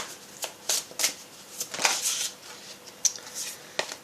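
Oracle cards being shuffled by hand, a series of soft, close, papery riffling bursts at an uneven rhythm, fairly quiet with no talk.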